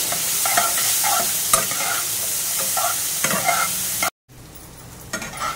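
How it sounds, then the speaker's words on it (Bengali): Soaked urad dal is stirred in a hot frying pan with vegetables, dry fruit and spices for semolina upma, giving a steady loud sizzle with repeated scraping strokes and a brief break near the end. "এবার আমি এর মধ্যে অ্যাড করে দিচ্ছি ভিজিয়ে রাখা বিউলির ডালগুলো। এটা দিয়েও একটু ভালো মতো নাড়াচাড়া করে নেব।"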